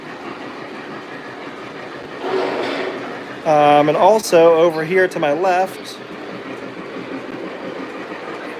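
An MTH model tank train circles a Lionel-style home layout, its steady rolling rumble and light clatter running underneath someone talking close by.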